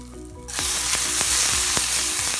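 Hot golden-brown tarka for a red split lentil dal hits the pan and erupts into a loud, sudden sizzle that keeps hissing steadily and close by.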